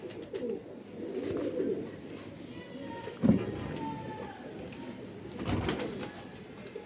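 Teddy pigeons coo softly in a setup, low repeated throaty coos close by, mixed with rustling and handling noise and a few louder bumps, with no clear talk.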